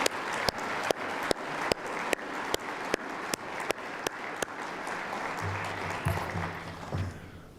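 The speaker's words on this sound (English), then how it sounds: "get one more round of applause for Becky Lockhart" A banquet audience gives a sustained round of applause for Becky Lockhart at a university appreciation banquet, dense clapping with a few louder sharp claps, fading toward the end without speech.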